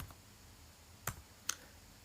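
A few soft, faint keystrokes tap on a computer keyboard while a command is entered at the command line, two distinct clicks in a quiet room.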